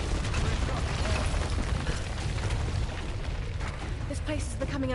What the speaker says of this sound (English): Alex is just here for all the explosions